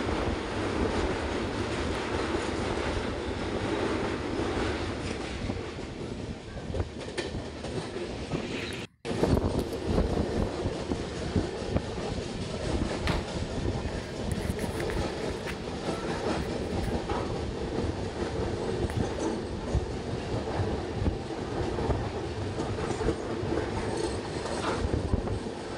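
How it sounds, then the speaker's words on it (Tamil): A train crossing a river bridge rumbles and clatters loudly and continuously, heard from inside, with rhythmic clanking and roaring wind noise and a brief dropout partway through. "ஆற்றுப்பாலங்களை கடக்கும்போது இந்த ட்ரெயின் எழுப்பக்கூடிய சத்தத்தில் சரியாக பேச முடியுமான்னு கூட தோணலை"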